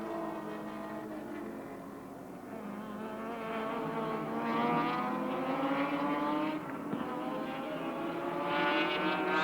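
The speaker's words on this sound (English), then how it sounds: "this time Moffat again pulls out of the slipstream" Touring race cars at Adelaide International Raceway in 1983 roar past in a continuous, loud, high-revving drone, engine notes rising and shifting as the cars run nose to tail in the slipstream.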